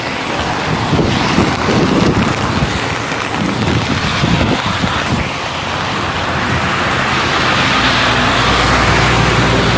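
Heavy rain pours steadily while strong wind roars throughout, a loud, continuous wash of storm noise with gusts swelling and easing, no voices.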